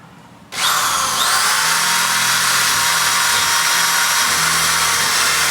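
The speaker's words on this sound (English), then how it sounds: "Drill our next hole and set our next anchor." A power drill bores a hole for a hurricane fabric anchor, starting abruptly after a brief quiet moment and then whining loud and steady up close until the end.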